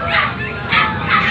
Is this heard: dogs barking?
yes